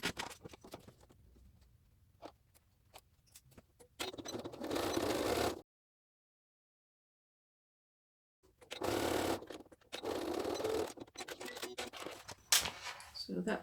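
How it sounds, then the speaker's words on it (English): Sewing machine stitching a bag pocket seam at a quarter-inch allowance, with two bursts of rapid, steady needle whirring separated by a silent gap, fairly close, with quieter handling noises around them. "I'm going to take that to the machine. I'm going to stitch across there with my 6mm or 1/4 inch seam allowance."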